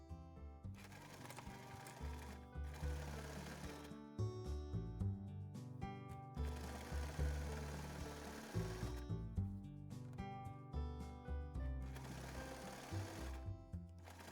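A domestic sewing machine stitches down the folded fabric tunnel of a drawstring bag, running in steady whirring bursts with brief stops between seams, close up and with no talking.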